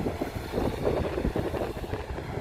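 Wind gusts buffet the microphone in an open wheat field during crop spraying, a low, steady rumble that stays fairly quiet and continuous throughout.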